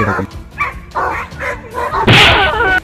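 A dog barks a few times among rough, noisy activity while attacking a kangaroo, ending in a loud harsh burst; a voice may be faintly present.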